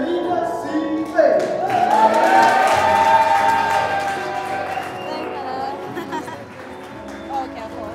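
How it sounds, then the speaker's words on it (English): An audience at a Hadithi Ya Africa storytelling event cheers and applauds for Lady Selinah Seipei, a loud, sustained crowd roar with raised voices mixed through the noise. "Give a massive round of applause to Lady Selinah Seipei."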